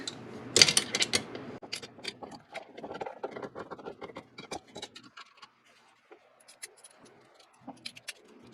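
Bolts being tightened on a skid plate of a 2021 Yamaha Grizzly 700 ATV, heard as quiet metallic ratcheting clicks and tool clinks in short bursts, close and with no talking.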